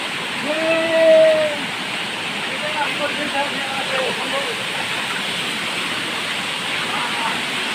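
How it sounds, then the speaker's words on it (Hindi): A waterfall in Goa gives a steady, broad rushing roar that fills the whole clip, with a short burst of voices near the start. "पहुंच गया हम लोग फाइनली, पहुंच गया वाटरफॉल में।"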